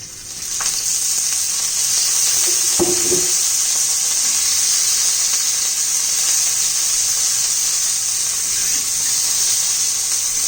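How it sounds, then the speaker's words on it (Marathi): Green chillies frying in hot oil in a home kitchen, a steady bright sizzle throughout, with a brief knock of a utensil early on and no talking. "तेल घालून मिरची चांगले भाजून घेऊया"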